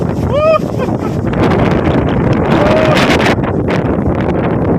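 Strong mountain wind at Sapang Bulak, Doña Remedios Trinidad, Bulacan, roars steadily into the microphone, a dense continuous rumble with gusty buffeting throughout, and a brief whistling tone near the start.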